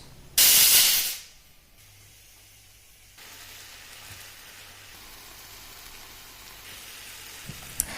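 Tomatoes are added to green peppers sautéing in hot oil for pav bhaji. A loud, sharp sizzle bursts up at first, then settles into a soft, steady frying hiss, heard close with no voices.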